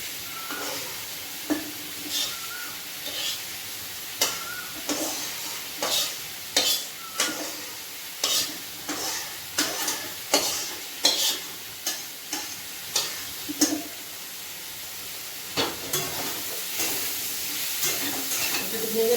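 Rice stir-fried in ghee for khichuri, a soft sizzle under a steady rhythm of spoon scrapes and taps against the pot, close and fairly quiet, with no talking.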